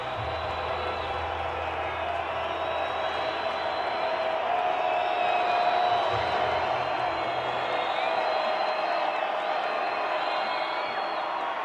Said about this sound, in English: The Sun Bowl crowd trying to get loud on third down.